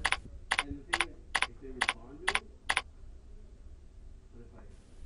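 Typing a group name on a computer keyboard in a contact-management page: a quick run of about seven sharp, evenly spaced key clicks, then a quiet pause with faint background hum.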